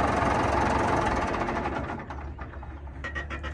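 A Ford 7630 tractor engine runs at idle with a heavy, knocking low rumble, loud at first and then easing slightly, no talk over it.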